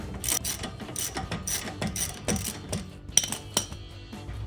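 A ratchet cranks out a Jeep Gladiator JT steering damper bolt, sending out rapid, close metallic clicking strokes in uneven bursts with brief pauses between them.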